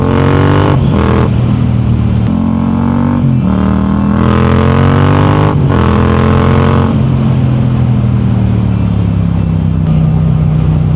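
A 2022 Yamaha MT-07 LAMS motorcycle engine revs repeatedly in sharp bursts, pitch climbing and dropping several times before settling into a steady idle, loud and close.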